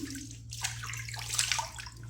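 Water runs and splashes in a warm bathroom as a face is wetted before shaving, a steady close rush with brief sloshing bursts over a low constant hum.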